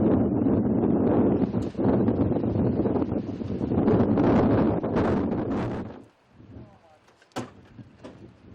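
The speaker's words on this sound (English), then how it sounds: "The glacial winds starting up like clockwork at around midday." Strong glacial wind gusts buffet the microphone at Batal, high in the Himalayas, roaring loudly and steadily for about six seconds before dropping to a softer, intermittent rush with a couple of brief bumps.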